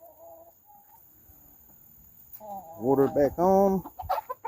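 Backyard chickens give quiet clucks near someone refilling their water bowls, then break into a burst of loud, close, rhythmic clucking. Someone speaks briefly near the start.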